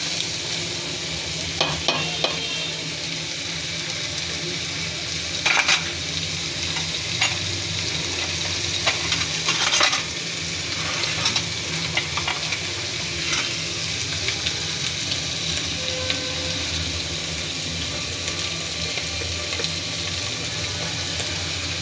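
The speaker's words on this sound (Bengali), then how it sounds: "নাড়াচাড়া করে ভেজে নিতে হবে মাছগুলো।" Small baim fish, spiny eel, being stir-fried in a pan give a steady bright sizzle, with the sharp scrape and clatter of stirring breaking in now and then.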